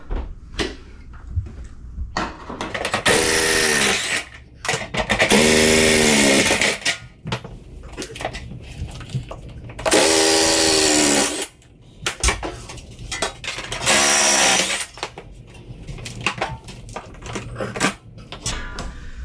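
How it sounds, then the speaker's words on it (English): A 3/8 impact driver backing masonry screws out of an old entry door frame: several loud, close bursts of rapid hammering whir, each lasting a second or two, separated by quieter pauses with small knocks and handling sounds. "I got the masonry screws out of the bottom. They're up here. I actually had to use my 3/8 impact."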